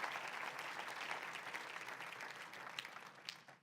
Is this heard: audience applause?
yes